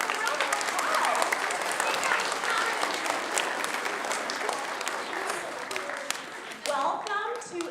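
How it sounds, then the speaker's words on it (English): An elementary school audience applauds at a winter band and orchestra concert, a dense, steady wash of many hands clapping that carries through and fades slightly toward the end, with a few voices and cheers mixed in. "we can start with a round of applause."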